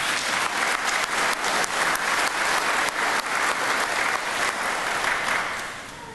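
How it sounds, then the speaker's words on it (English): A crowd at a naturalization ceremony in an old state capitol applauds a judge, a full burst of steady clapping that holds for several seconds and tapers off at the end. "And let's give Judge Myerscough a round of applause."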